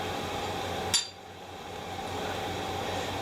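A chisel or flat-bladed screwdriver strikes a car part in a home mechanic's work, giving a single sharp metallic clink that rings briefly before fading into a low background hum, with no talking.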